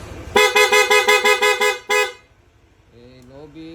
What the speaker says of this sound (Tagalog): Sa busina naman ni Sir, ang kinabit po natin Pia horn.